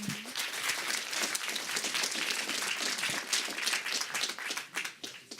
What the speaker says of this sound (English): One last round of applause for Bodo.